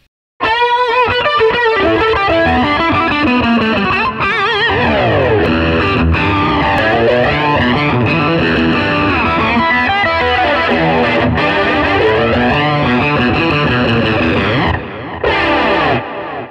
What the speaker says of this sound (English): in the effects loop of the amp there, I'm running the chorus, EP3 Echoplex, and the plate reverb